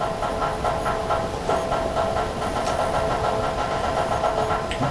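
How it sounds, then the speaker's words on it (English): Kettle of water heating on a cabin stove for tea, giving a steady steam-like hiss and rumble that holds level throughout, with faint clinks and no talking. "I've got the kettle on the stove now to boil to make some tea"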